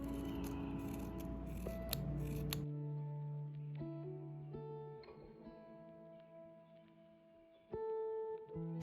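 Scissors snip fringe into white paper for a paper delphinium flower, with a dense burst of crisp cutting sounds in the first few seconds. Sustained tonal music takes over afterwards.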